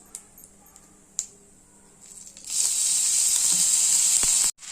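Grated potato dropped into hot oil tempered with cumin and mustard seeds bursts into a loud, steady sizzle after a few faint pops and crackles, holding strong for a couple of seconds before cutting off abruptly.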